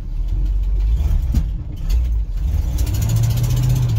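Chevy K30 squarebody pickup engine pulling the truck up and out of ruts, a steady low rumble that swells as it works, close by with no talk.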